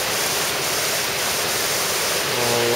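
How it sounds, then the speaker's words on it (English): Spring water pouring out of a desert hillside at Fossil Creek, Arizona, a steady broadband rush with no break, close and fairly loud, with a faint low hum near the end. "The water just coming right out of the hill."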